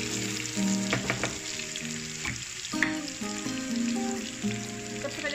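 Oil sizzling in a pan for daal tadka, a steady close frying hiss with occasional pops and clinks over a constant background hum.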